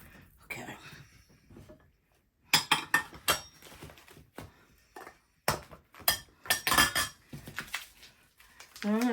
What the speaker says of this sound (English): we're going to mix this up best we can. Break up this meat.